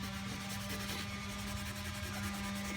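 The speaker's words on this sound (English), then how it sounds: "I'm going to start kind of just lightly sanding this." Stained wood is lightly sanded by hand in a mountain home, a steady, quiet rubbing with a faint rhythmic scrape over a constant low background hum.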